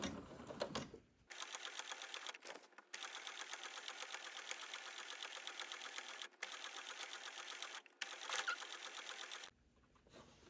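Sewing machine stitching a rolled hem runs in a steady, close mechanical whir for several seconds, with brief stops and restarts and a quiet start and end.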